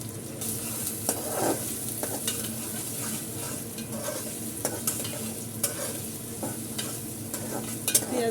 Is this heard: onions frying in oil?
yes